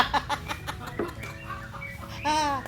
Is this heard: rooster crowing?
yes